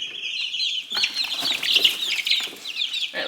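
A Barred Rock hen clucks and squawks continuously while being handled, with agitated, overlapping calls close to the mic and no talking.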